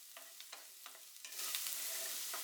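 Crushed garlic frying in a pan for egg bhurji: a few soft spatula taps and stirs at first, then a bright, steady sizzle swells up close and continues without speech.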